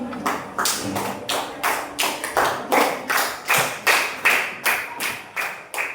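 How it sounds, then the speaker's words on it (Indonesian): A classroom group claps in a steady, patterned rhythm, about a dozen sharp unison beats in quick succession, loud and close with no talking. "beri tepuk tangan untuk kita semua"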